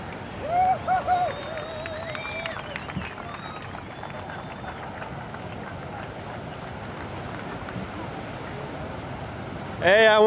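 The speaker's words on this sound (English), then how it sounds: "A huge round of applause for your champion, Marco Mignot." Crowd applause and cheering for the winner on finals day of a Santa Cruz surf contest, scattered clapping and shouts beneath a voice talking, with a louder burst of noise at the very end.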